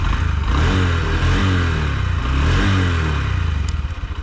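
A 2025 Honda Shine 125 motorcycle engine runs loud and close, rising and falling through a couple of revs before easing off at the end, with no one speaking.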